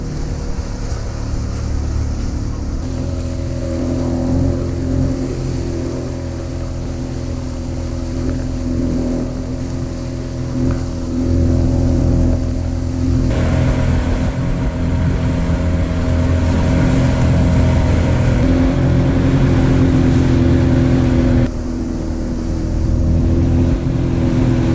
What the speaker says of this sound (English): Motor's not doing well. I'm not sure we have a foul spark plug or maybe something with a power pack.